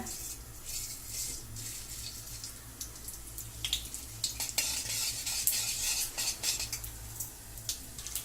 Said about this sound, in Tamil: எண்ணெய் காஞ்சிச்சு, கடுகு போட்டுக்குங்க.